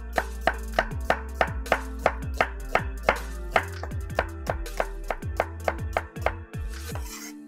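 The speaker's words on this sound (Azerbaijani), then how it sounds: "2 ədəd soğan uzun sov doğrayırıq" Two onions are chopped lengthwise with a knife on a cutting board: a steady run of about twenty sharp, evenly spaced chops, close and distinct, with no voices.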